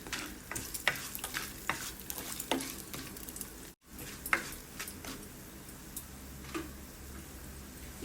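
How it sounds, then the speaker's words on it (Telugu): Chana dal, urad dal, cumin and coriander seeds frying in a pan over medium flame for a coconut chutney tempering, a continuous soft crackle with light stirring clicks and taps, without speech. "ఇప్పుడు ఇదే బాండీలో ఈ శనగపప్పు, మినపప్పు, జీలకర్ర, ధనియాలు పోపును కూడా దోరగా వేయించుకోవాలి."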